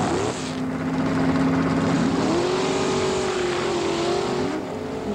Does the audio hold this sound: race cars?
yes